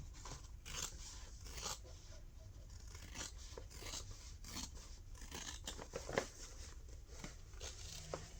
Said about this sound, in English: It's easier to cut with the threads on the left side of my scissors so I can actually see it